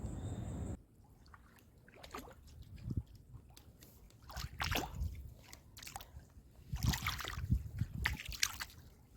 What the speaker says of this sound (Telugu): వాటర్లో నడుస్తున్నాను నేను అంచులో.